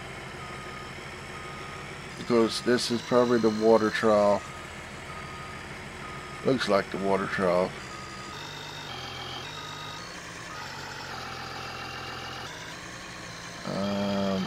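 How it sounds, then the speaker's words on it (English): A truck reversing in Farming Simulator 19, with rapid electronic backup beeps in two short bursts and a third near the end over a steady idling engine hum, while someone talks throughout. "Now, if I back up over this,"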